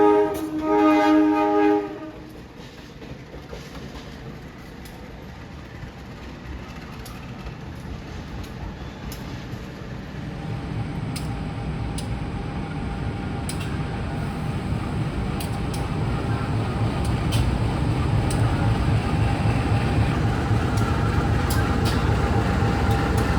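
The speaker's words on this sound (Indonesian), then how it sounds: "Lokomotif yang berdinas untuk kereta lokal Pramex dari Kutoarjo menuju Jogja siang hari ini pakai lokomotif CC201" A CC201 diesel locomotive with a local Prameks passenger train on the Kutoarjo to Jogja line starts with a short horn blast, then a steady low rumble of engine and rolling cars builds and grows louder over about twenty seconds.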